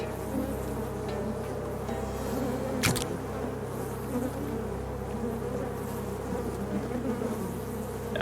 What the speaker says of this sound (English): I don't care about the buzzing sound.